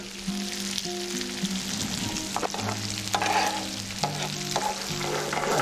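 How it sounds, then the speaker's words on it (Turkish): Raisins and roughly broken almonds fry in hot oil, giving a close, steady sizzle with occasional stirring scrapes and clicks throughout. "Öncelikle kuru üzümlerimizi yağımıza alıyoruz."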